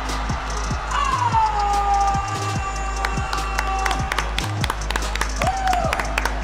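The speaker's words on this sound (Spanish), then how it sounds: "Aplausos por el nuevo campeón" Crowd applause and cheering at a Red Bull Batalla freestyle rap battle crowning a new Peruvian champion, steady dense clapping mixed with a bouncing music bed, with voices talking over it.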